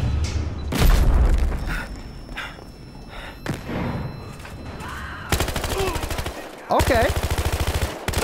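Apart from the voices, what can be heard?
gunfire in the video game Battlefield Hardline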